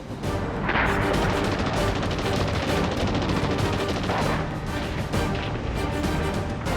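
A World War II Pacific beach battle against Japanese defenders, with dense heavy mortar, sniper and machine gun fire: a continuous loud barrage of overlapping blasts and rattling shots, with no pauses.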